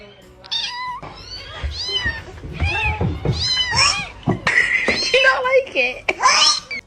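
A cat meows again and again in rising, wavering cries, close and loud, mixed with a voice and other talk.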